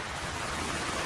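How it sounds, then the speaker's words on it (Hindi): Heavy rain pours steadily in an animated children's story, a dense, even hiss of downpour filling the short stretch with no voices. "बारिश बहुत तेज थी।"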